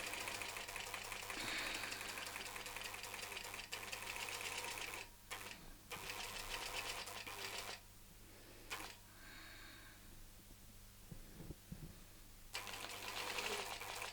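A longarm quilting machine stitches in a fast, steady mechanical chatter that stops briefly twice, then pauses longer before running again at the end.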